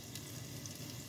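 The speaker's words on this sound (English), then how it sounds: "here my eggplants are frying right now" Eggplants frying in a covered pan over a flame give a steady close sizzle for about a second, with no voices.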